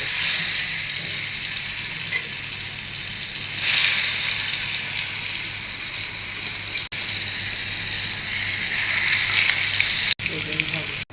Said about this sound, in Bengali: মাংস আস্তে ভাজবো, রান্না করবো